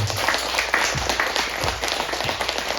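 A church congregation claps in praise to God at a Thanksgiving service, a dense, steady burst of many hands with a faint voice underneath.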